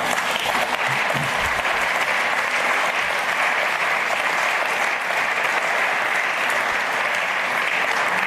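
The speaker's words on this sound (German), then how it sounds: "Applaus" Members of a parliament chamber, the Bürgerschaft, applaud during a debate. The clapping is loud, dense and sustained, a full room of hands keeping an unbroken wash of sound for several seconds.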